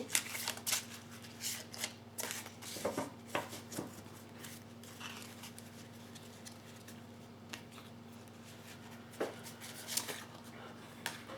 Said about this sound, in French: je vais tirer une carte de l'oracle des cristaux